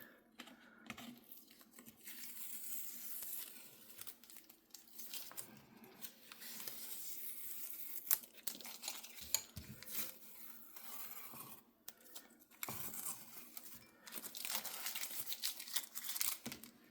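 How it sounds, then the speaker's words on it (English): Masking tape peeled slowly off watercolor paper after painting a beginner landscape, a close, continuous crackling rip with brief pauses between pulls. "let's pull the tape off,"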